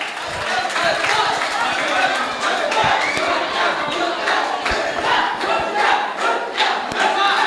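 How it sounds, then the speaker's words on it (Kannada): An audience at a cultural event claps and cheers loudly in a dense, continuous roar of crowd noise with sharp hand-clap bursts throughout. "ಜೋರಾಗಿ ಚಪ್ಪಾಳೆ ತಟ್ಟಿ."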